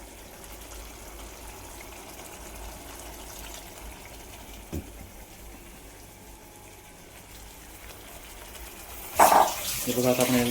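Water is poured into dhaba-style chicken tikka biryani gravy. A loud, close splashing gush bursts in near the end after a long stretch of quiet kitchen room tone.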